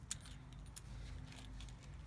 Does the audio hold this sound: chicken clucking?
no